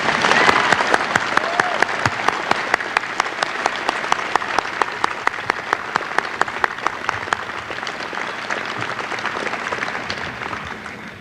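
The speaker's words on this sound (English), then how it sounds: "Let's give all of the graduates a nice round of applause." A large audience claps steadily for graduates at a medical school commencement ceremony, dense sustained applause with a few sharper individual claps, slowly fading at the end.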